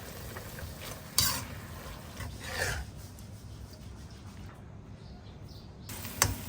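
Ingredients for Thai khao kluk kapi, including young leaves, are stir-roasted in a pan, with quiet scraping and stirring strokes and a soft sizzle, a couple of sharper utensil clacks standing out near the start and end.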